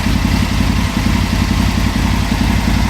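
An Aprilia motorcycle engine runs close up during fuel tuning, a loud, steady rapid pulsing idle with a mechanical clatter and no change in pace.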